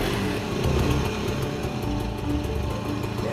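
A classic two-stroke motorbike engine, just primed through the carburettor, catches and runs with a steady, buzzing, rough idle that carries on without a break, close by and fairly loud.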